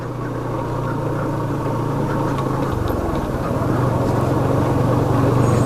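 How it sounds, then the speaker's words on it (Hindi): A motorcycle engine runs steadily at low speed in second gear with the clutch half engaged, a continuous close drone with a slight pitch shift partway through. "सेकंड गियर में मुझे यहाँ पे स्लो चलाना था ना, तो मैंने हाफ क्लच कर लिया"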